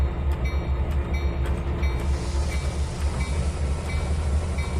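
A video game train in Trainz 2019 reversing, rumbling and clanking steadily along the track with faint rhythmic clicks, heavy and close, with no voices.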